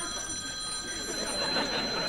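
Telephone ringing in a television studio, a steady electronic ring with sustained high tones, moderately faint, continuing under light room noise.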